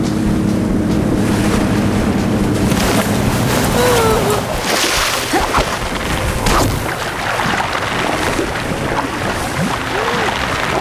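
A motorboat engine drones over wind and surf, loud and steady, as the boat draws closer across the water.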